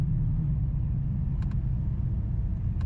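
A Dodge Challenger's engine drones low and steady from inside the cabin while driving, a continuous rumble with a couple of faint brief clicks near the end.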